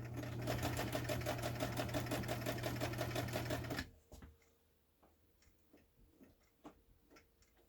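A Brother 230 Galaxie sewing machine stitching a wide zigzag: rapid, steady mechanical ticking and motor hum for about four seconds, then it stops, leaving faint handling clicks.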